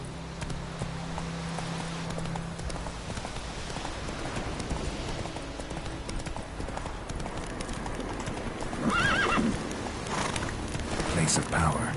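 Hooves of Roach the horse galloping steadily across terrain in The Witcher 3, a continuous rhythmic clip-clop under game ambience and music, with a voice speaking briefly.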